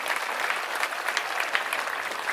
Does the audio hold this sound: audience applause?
yes